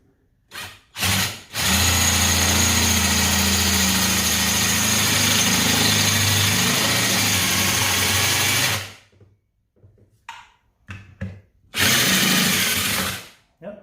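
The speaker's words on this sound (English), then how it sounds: "and I'm drilling out the rivets" A cordless drill drilling out rivets on a 4-stroke dirt bike silencer, a long loud whining run of about seven seconds, then short bursts and a final burst, close and with no talk.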